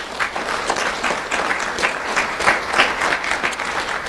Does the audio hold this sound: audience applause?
yes